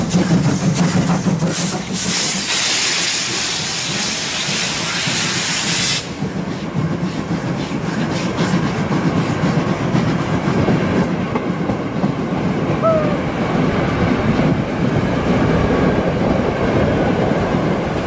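A steam train in Germany rumbles steadily nearby with a broad hiss and rhythmic clatter of wheels on track, continuous throughout with no talking.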